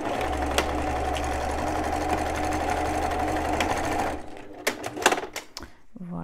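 A sewing machine runs a steady stitching hum while sewing a seam on a cork bum bag, close and continuous for about four seconds, then stops, followed by a few clicks and handling noises.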